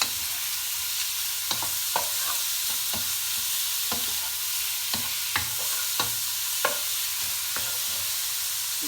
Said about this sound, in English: then we go with the beef. Give that a good stir. Nice high heat.